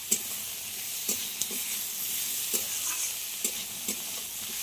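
Tomato and salt fry in a pan, a quiet steady sizzle broken by several sharp scrapes of a spoon stirring at irregular intervals, with no voices.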